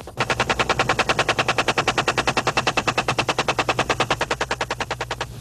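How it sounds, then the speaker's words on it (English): Helicopter gunships fire machine guns in one long rapid burst of about forty evenly spaced loud shots, with a low rotor or engine hum beneath. "permission to fire is granted, and the escorting gunships race in"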